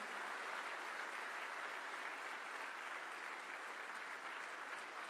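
Steady, faint applause from an audience at a government workshop on developing India's animal breeds, held in honour of the chief minister, a continuous even wash of clapping with no break throughout.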